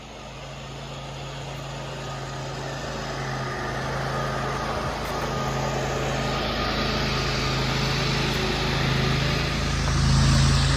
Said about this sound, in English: I've been listening to that leaf blower almost since I got here.